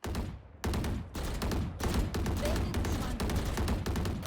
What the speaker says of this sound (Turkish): Çok tiz bir sesi var silah sıkarken.